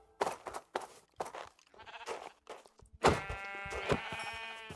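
Several Minecraft sheep bleats, some short and some drawn out, in quick succession, with a louder, harmonically rich bleat near the end.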